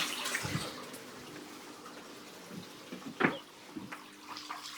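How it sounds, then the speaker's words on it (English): Water trickles softly from a turned-down outlet into an outdoor coral reef tank in the UK, a faint, steady splashing with a few louder drips and gurgles against a quiet hiss. "I turn it down so it's just almost a trickle."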